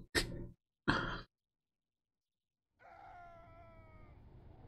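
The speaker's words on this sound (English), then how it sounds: "I think I heard someone scream." A faint, distant scream with a drawn-out, wavering cry rings out alone in the horror game Missing Hiker, following two short breathy bursts and a stretch of silence.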